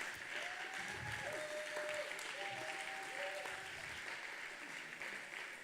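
An audience at a church gathering applauds, a sustained wash of clapping heard from a distance with faint voices and tonal sounds mixed in.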